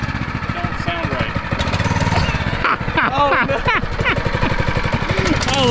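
A Honda 6.5 hp lawn mower engine fitted to a sport bike runs with a steady, rattling mechanical chug close by, its pitch shifting slightly as it revs, with people talking over it.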